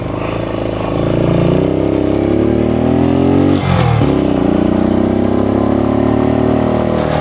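A Suzuki TU250x motorcycle pulls away under throttle, its engine note climbing steadily and loud up close, dipping briefly at a gear change before rising again.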